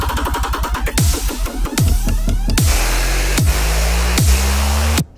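Dubstep bass patches built in the Serum synth with distortion and saturation play loud and alone, with rapid stuttering wobbles giving way to heavy pitch-dropping growls and sustained distorted bass hits.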